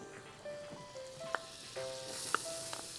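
Butter and green onion sizzle and crackle steadily in a hot pan, close up, with a couple of sharp pops and faint stirring scrapes throughout and no voices.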